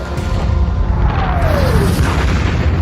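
Naval bombardment of the Pointe du Hoc cliffs by battleships including the USS Texas, a continuous loud low rumble of distant heavy booms with a faint whistling tone passing through midway.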